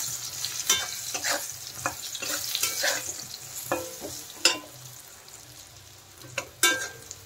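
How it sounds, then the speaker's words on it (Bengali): Eggplant pieces frying in oil with turmeric and salt, stirred in the pan with scraping spatula strokes over a steady close sizzle; no talking. "দেখেন বেগুন ভাজা হয়ে গেছে"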